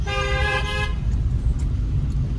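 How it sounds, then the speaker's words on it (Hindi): A car horn sounds one short toot of under a second over the low rumble of an idling engine, while a learner drives slowly through narrow lanes. "हॉर्न"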